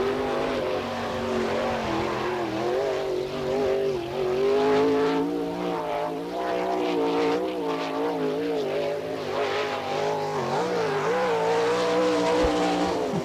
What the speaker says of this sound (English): Qualifying right now in the yellow number 28 from Grove City, Pennsylvania.